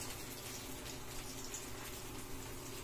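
Water being poured out during home cooking of maruya (banana fritters), a steady continuous gushing splash at close range with no talking over it.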